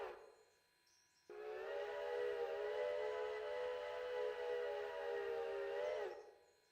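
A locomotive whistle blows one long steady steam-like blast of about five seconds, loud and close, then fades out, with no talking.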